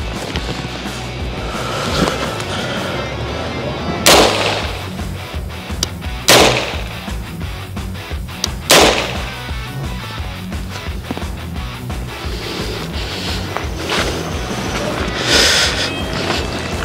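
Gunfire from a UTAS UT9-M Mini in a video game: three sharp, loud single shots spaced a couple of seconds apart, with a softer fourth report near the end over steady background noise and no speech.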